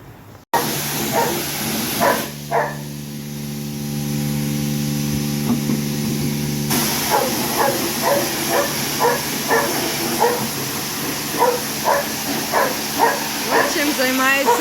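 A dog barks near a car wash at night, first a few sharp yips and then a steady run of repeated barks, while people talk and a hiss of spraying comes in between.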